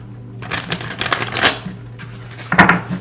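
Tarot cards shuffled and one drawn, producing quick clustered riffling bursts and sharp flicks near the microphone, separated by brief pauses.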